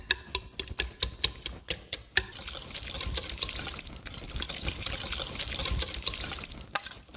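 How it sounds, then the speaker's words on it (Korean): A whisk breaks a 300 g block of soft tofu in a mixing bowl: a run of sharp, evenly spaced clicks against the bowl at first, then a continuous wet mashing and scraping, close and alone. "두부 한 모 넣어주고, 그리고 휘스크를 이용해서 잘게 쪼개줍니다"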